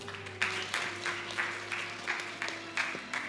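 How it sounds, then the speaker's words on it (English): Audience applause at a dental research symposium, a moderate crowd clapping in a loose, uneven patter with a faint steady hum beneath, sustained throughout. "Ladies and gentlemen, please give them a warm round of applause"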